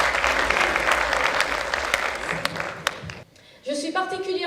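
Audience applause rings out at a public ceremony in Aveyron, steady dense clapping for several seconds that breaks off abruptly, followed by a voice speaking.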